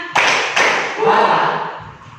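Rhythmic hand clapping from a school class in Indonesia, sharp claps in a quick patterned sequence, fairly loud and close.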